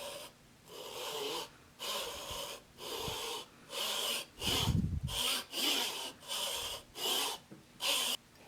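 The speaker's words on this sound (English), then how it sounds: "take my handsaw" A fine-toothed handsaw cuts along a marked line in a wooden treasure chest side, with rhythmic rasping push-and-pull strokes about once a second, close and clear, without talk.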